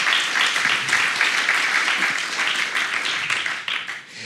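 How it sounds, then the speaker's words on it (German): Applause fills a room at a live podcast recording during an education conference, a dense, even wash of clapping that holds steady and then tapers off toward the end. "Jetzt im Raum gibt es hier viel Applaus dafür."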